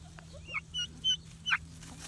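Chickens on a farm give a few short, fairly soft clucks and chirps in quick succession over a faint steady background hum, with no talking.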